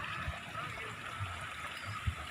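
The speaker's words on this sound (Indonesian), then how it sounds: "Ini di pinggir ada sedikit aliran air." A small stream of water trickles along the edge of a rice field near housing. It makes a steady, faint rushing hiss with a few soft low thumps, and no other sound stands out.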